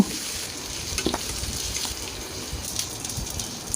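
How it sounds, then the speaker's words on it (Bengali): Sweet pumpkin pieces fry in oil left over from frying fish, giving a steady close sizzle with scattered crackles and a few stirring clatters, no voices. "এখন ওই একই তেলে মিষ্টি কুমড়াগুলো ভেজে নিব।"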